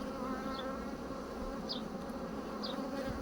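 Honeybees buzzing during a swarm-check hive inspection, a steady close hum from many bees, with a few faint higher chirps drifting through.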